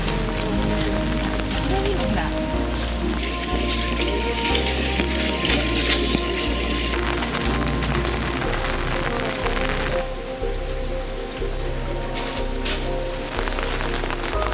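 Persistent rain falls steadily in a Japanese garden full of ponds and water channels, a dense close patter on surfaces with a constant hiss throughout and no talking.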